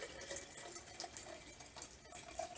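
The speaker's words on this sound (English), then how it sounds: "I'm going to pour it into what's going to be my candle" Sugar water, clear enough to look like plain water, pours from a large Pyrex measuring cup into a candle vessel, giving a steady, faint liquid trickle and splash close by for a few seconds.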